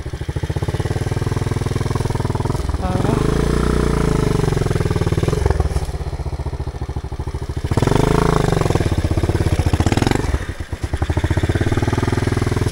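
A Loncin 110/125 motorcycle engine labours off-road up a wooded slope, revving steadily close by with repeated rises and dips in pitch and a brief stutter near the end, with no talking.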